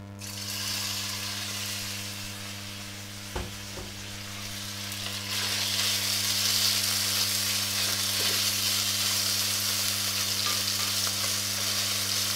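Beef stir frying in a hot pan with about three tablespoons of oil gives off a steady, close sizzle that swells louder midway, with a few brief clinks of a utensil against the pan and no talking.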